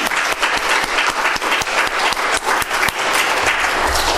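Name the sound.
congregation applauding in thanks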